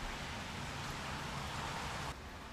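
Steady rain falls outdoors on a rainy day around a small Weber Smokey Joe Silver charcoal grill, a continuous soft hiss that drops slightly in level near the end, with no voices.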